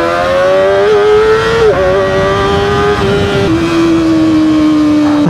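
A 2024 Kawasaki ZX25R SE with a 50-horsepower inline-four revs hard through a high, sustained scream that climbs and dips across several throttle changes. The engine stays loud and close for the whole stretch in Saturday afternoon traffic, with no talk over it.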